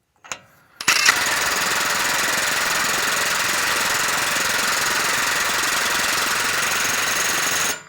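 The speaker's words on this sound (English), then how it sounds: "you're going to hear the impact hammer" A pneumatic impact hammer drives a wheel bearing on a 2011 Toyota Tundra, rattling loudly in a rapid, continuous burst lasting several seconds after a couple of brief short bursts, then stops abruptly.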